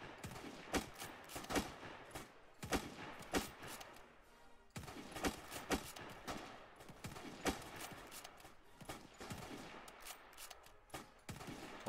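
Gunfire in the Roblox survival game 55 Days at Peking crackles as ragged volleys and rapid bursts from several weapons, fairly faint and continuous throughout.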